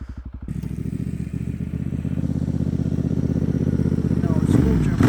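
A Honda CRF300L engine lugs close up at very low revs, a rough, uneven putter that nearly dies before picking up again, with a rider talking over it.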